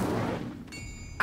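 Incendio fire spell cast in Hogwarts Legacy: a dense whooshing burst of flame with a low rumbling roar, fading into a thin tonal shimmer, then a short sharp flare at the end.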